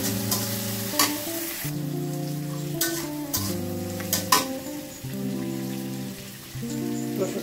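Prawns fry lightly in oil with onions, giving a steady close sizzle with a few sharp spoon clicks against the pan, while soft melodic background music plays throughout.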